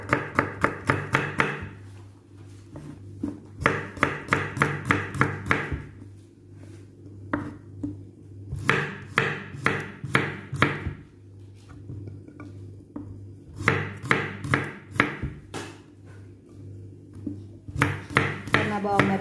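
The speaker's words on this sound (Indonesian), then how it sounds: "di sini saya akan menghaluskannya dengan menumbuk" Shallots and spices pounded in a mortar for Balinese pepes mujair, sharp rhythmic knocks in quick bursts with pauses between, close and fairly loud, with a low steady hum underneath.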